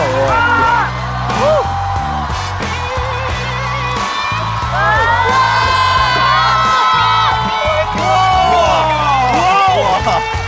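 An audience at a stand-up comedy show cheers, whoops and shouts excitedly for a comedian, loud, continuous crowd noise with high voices rising over it.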